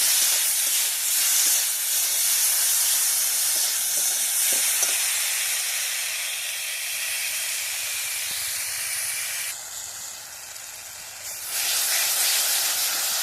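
A spice paste with tomato and salt frying in a pan during village-style cooking, heard as a close, continuous hissing sizzle that dips briefly and then swells again, with faint stirring scrapes and no talking.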